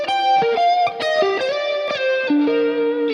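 An electric guitar plays a solo line over a song, distinct picked notes, some bent or held, with a slightly driven, echoing tone and no talking.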